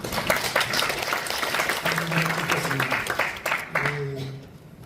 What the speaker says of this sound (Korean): 박수로 받았습니다.